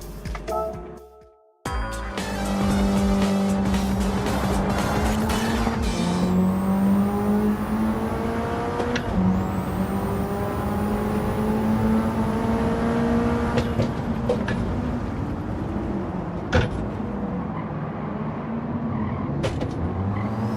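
An all-wheel drive race car in Gran Turismo 7 roars steadily at close range through the whole run, its engine pitch climbing and dropping with gear shifts after a brief quiet start.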